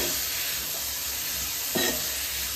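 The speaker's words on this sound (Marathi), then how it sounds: "तर इथे मूग जे आहेत ते आपण आता यामध्ये मसाल्यांमध्ये टाकून घेणार आहोत, फोडणीवर टाकून घेणार आहोत।" Sprouted mung beans sizzle in a hot spice tempering, a steady close frying hiss throughout with a brief stirring swell near the end.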